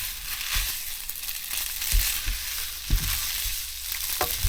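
Noodles with buttery peppers, onion and Parmesan sizzle and fry in a pan, a continuous close hiss broken by several scraping stirs and soft knocks of the utensil.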